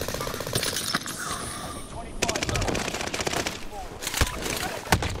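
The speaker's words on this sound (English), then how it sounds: "Oh, I'm getting shot at from front!" Rapid automatic gunfire in Call of Duty: Modern Warfare, dense bursts of shots with sharp louder cracks near the end, mixed with game effects while a player talks over it.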